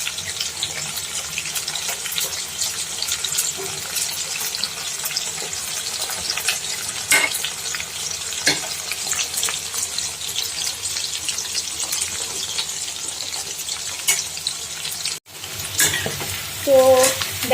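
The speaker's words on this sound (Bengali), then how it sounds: "এরকম সেম প্রসেসে আমি বাকি সবগুলো ভেজে নেব।" Battered chilli chicken pieces frying in hot oil for Bengali-style chilli chicken, a dense continuous sizzle with stirring scrapes throughout and a brief clatter near the end, no one speaking.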